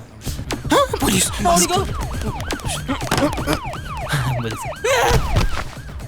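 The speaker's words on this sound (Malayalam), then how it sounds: "ആംബുലൻസ് ആയിരുന്നു" Wailing ambulance siren sweeping up and down repeatedly, fairly loud and close, with voices talking and traffic noise underneath.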